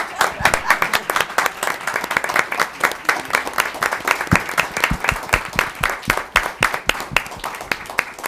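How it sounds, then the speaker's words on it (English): Applause fills a city council meeting in Bonita Springs, a dense steady clatter of many hands clapping together for several seconds, with a few voices mixed in. "that was a lot of applause"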